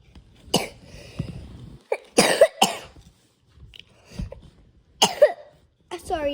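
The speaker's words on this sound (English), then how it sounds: "I have a very bad cough" Several short, sharp coughs from a person with a bad cough, coming in scattered bursts at close range, with speech-like sounds between them.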